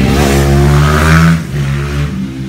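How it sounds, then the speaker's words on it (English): A dirt bike ridden around the block nearby, its engine revving loudly and then easing off with a steady buzzing note before picking up again. "I have an annoying new redneck neighbor who just likes to drive around the block on his dirt bike and make a lot of noise"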